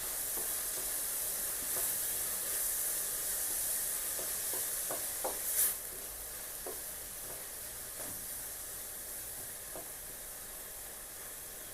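Capsicum and onion fry on a high flame for Schezwan fried rice, a steady close sizzle broken by occasional scrapes and stirs of a spatula, with a brief louder hiss about midway and no talk.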